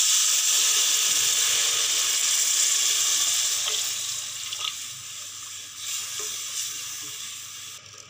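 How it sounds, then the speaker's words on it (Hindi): Water pours steadily into a hot cooking pot of green chillies and spices for khuska rice, with a loud sizzling hiss that gradually softens as the pouring continues. "मैं इसमें ऐड कर रही हूँ पानी।"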